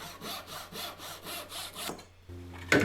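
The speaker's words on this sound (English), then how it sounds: "I'll just cut them to length" Wooden splines being sawn to length by hand, a run of steady back-and-forth strokes close by, ending in a short pause and a brief knock.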